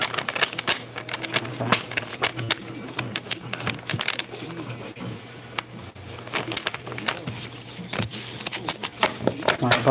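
Tarot cards being shuffled by hand in a rapid, dense run of crisp flicks and riffles, close and fairly loud, with a low hum underneath and a voice talking at times.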